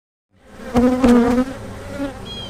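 Honeybees buzz loudly in an opened hive with a drone-laying queen, a close, swelling drone of wingbeats that rises sharply into agitated bursts before settling into a steady hum.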